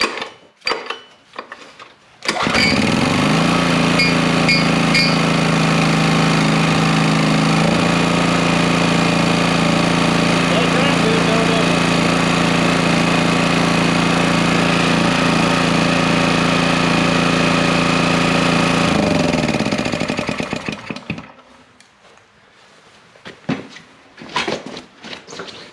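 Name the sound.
Honda EX1000 generator engine starting and running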